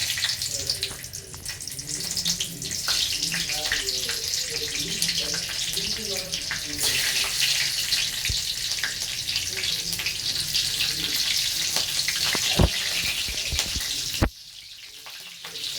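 Four green chillies frying in hot mustard oil and ghee, a continuous hissing sizzle with scattered crackles and pops, close and loud, ending in a sudden drop to quiet.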